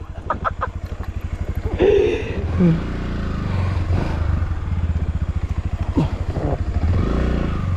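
A heavy motorcycle engine putters steadily at close range in a forest with a rhythmic idle pulse, and some rustling and clatter come through.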